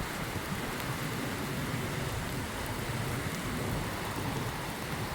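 Heavy rain pours steadily over a residential colony, a dense, continuous broadband roar with no pauses, fairly loud and close.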